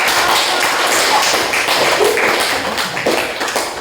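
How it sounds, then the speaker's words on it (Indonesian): A classroom group applauds after a presentation, with dense, steady hand clapping from many people throughout, loud and close, and no speech over it. "berikan tepuk tangan dulu"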